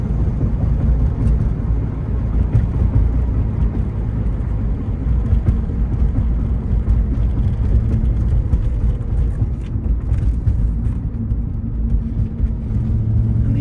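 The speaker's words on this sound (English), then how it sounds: "you can hear the fuel pump whine faintly in the background" Steady low engine and road rumble inside a 1993 Ford Mustang SVT Cobra with 13k miles as it drives, with a faint fuel pump whine in the background. Continuous and even throughout, with no talking.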